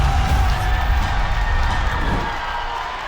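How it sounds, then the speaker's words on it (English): A large crowd at a rugby league game roars and cheers continuously, a dense wash of voices that stays loud and slowly eases off toward the end. "The crowd is going crazy."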